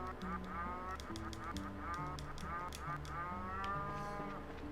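Cows mooing in the video game Trails in the Sky SC, several drawn-out lowing calls over a steady farm ambience with looping background music and occasional honking fowl.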